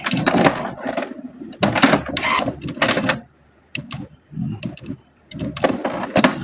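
An HP Smart Tank 615 inkjet printer runs its printhead cleaning cycle, giving close, loud bursts of mechanical whirring and clattering separated by short pauses.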